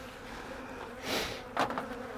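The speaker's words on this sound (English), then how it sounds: "I'm going to shake the bees off the frames up here into the hive below" Honey bees from a tiny, weak swarm hum softly as they are shaken off frames into the hive below, a faint low buzz with a couple of brief louder swells of rushing wings.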